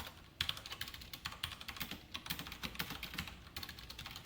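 Rapid, uneven keystrokes on a computer keyboard as code is typed during a programming lesson on functions, the clicks close and crisp, continuing steadily with no voices.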